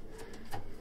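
Abdal Arab performing pigeons in a loft give faint, soft coos, two or three brief low murmurs under quiet room noise.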